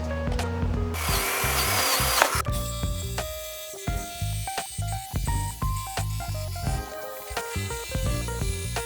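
A power tool cuts through plywood in a workshop, opening with a short loud burst of whirring, then continuing as a close, rough, rhythmic buzzing with repeated bumps and rattles.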